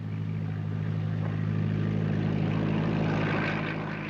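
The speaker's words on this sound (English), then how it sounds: "The takeoff for the crack-up." A propeller airplane takes off for a staged crash into a house, its engine a steady, loud droning roar with a low throbbing hum that holds throughout.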